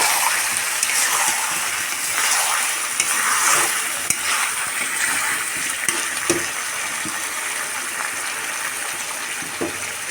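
Broth pours into a pan of well-sautéed chicken curry, gushing and hissing into a steady sizzle with occasional stirring scrapes and taps. The sound is close and continuous, with no voices heard.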